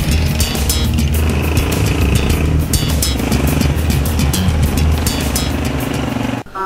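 Motorcycle engine straining loudly and continuously while climbing a steep mountain road toward a high village in the Kaghan valley, heard close, with no talking.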